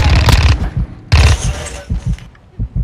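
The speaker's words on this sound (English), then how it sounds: "I'm getting sniped at." Gunfire in Modern Warfare 2 during an online match: loud close bursts of rapid shots in two clusters, then a few scattered single thumps, with no talking.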